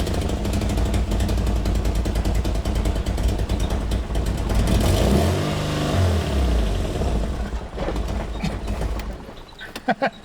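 A Nissan 240SX (S14) engine, fresh from a head gasket and timing chain job, runs loud and steady close by, then rises through a revving sweep and settles back down before cutting off.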